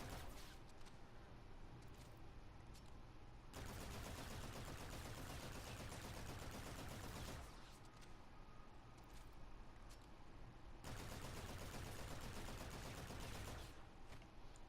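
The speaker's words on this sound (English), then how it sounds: "So here's the regular Volk. I'm going to be shooting at this bottom line each time so you can see what happens." Volk rifle from Call of Duty firing in sustained bursts, two long stretches of dense rapid gunfire split by shorter, quieter gaps, loud and close with no voices.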